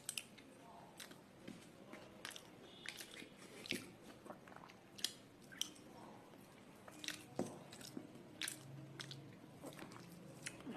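Close, quiet chewing and biting of khichuri bhog prasad, soft repeated mouth clicks and squishy bites in an irregular rhythm throughout, with no talking.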